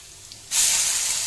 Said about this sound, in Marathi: आता बारीक चिरून घेतलेला लसूण घालायचं त्यामध्ये. तर हे परतून घ्यायचं पूर्ण.